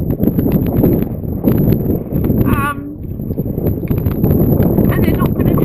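Horse hooves walking on a relaxed rein, a steady clip-clop running the whole way through under continuous talking, with some wind noise on the microphone.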